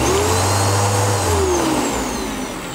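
A MOOSOO U1400-PLUS 1400W pet upright vacuum runs flipped over with its brush roll spinning, giving a loud steady motor drone with a whine that slowly dips and fades slightly toward the end.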